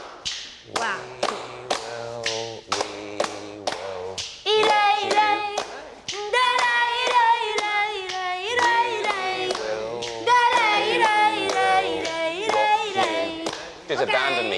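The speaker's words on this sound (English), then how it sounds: "palmas, flamenco's distinctive hand claps and stamps" Flamenco palmas ring out as sharp, rhythmic hand claps and taps in quick repeated bursts, mixed with sung or spoken voices and occasional heavier thumps like stamps.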